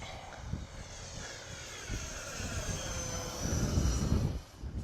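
An FMS F/A-18 64mm V2 electric ducted-fan RC jet flies in wind on its maiden flight, its steady whooshing fan roar rising somewhat louder toward the end and mixed with gusty wind rumble.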